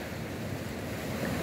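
Ocean surf breaking at the Soetwater surfing spot near Kommetjie on the Atlantic coast, a steady, close wash of waves with wind rumbling across the microphone throughout.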